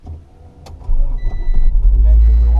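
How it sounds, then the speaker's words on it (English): A 1996 Acura Integra LS engine cranks and catches, the starter whirring briefly before a loud, rough idle rumbles up close and steadies, with the car's interior vibration audible. "shortly after I started the car, the camera picked up all of the vibration from this poor little engine"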